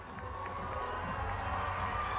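An audience at a talent show gives a round of applause for twelve finalists, a dense steady wash of clapping and crowd noise with scattered shouts throughout.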